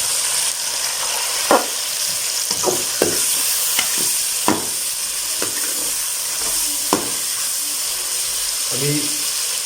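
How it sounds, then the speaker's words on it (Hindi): Chicken with green chana fries loudly in a pan as chopped tomatoes go in, giving a constant bright sizzle and hiss broken by periodic scraping stirs of a spatula. "अभी ऐड कर देते हैं हम टमाटर"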